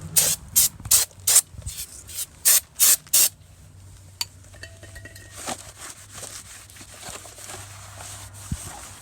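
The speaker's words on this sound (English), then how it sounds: "you want to clean the brake pads. So that's what we're doing right now." Brake cleaner sprays onto new brake pads and slotted rotors on a Nissan 370Z in a series of about eight sharp, loud hissing bursts, followed by quieter rustling and faint clinks.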